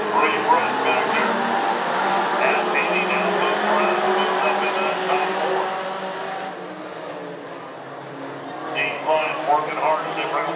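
Mini truck race cars run down the back straightaway at Antioch Speedway, a continuous loud engine roar from a pack of trucks with a track announcer talking over it.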